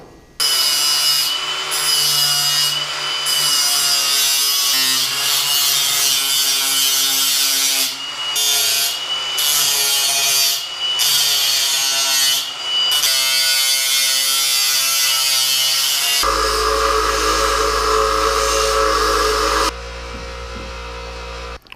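A power tool cuts Lexan sheet for a windshield frame with a loud, harsh, continuous buzzing whine that changes pitch between passes and stops briefly before a lower-pitched final stretch.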